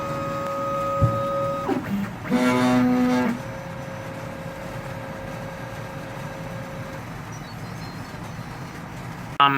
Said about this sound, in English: it will begin heating up the filament, finding the position of the base plate, and begin the printing process.